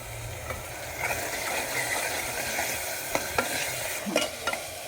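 Mutton masala with turmeric is stirred in a pot over a wood-fired stove for biryani, with a continuous gritty scraping and sizzle and a few sharp clicks of the spoon hitting the pot toward the end.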